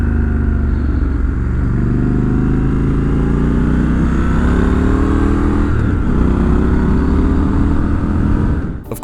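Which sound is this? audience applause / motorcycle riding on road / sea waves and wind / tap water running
motorcycle riding on road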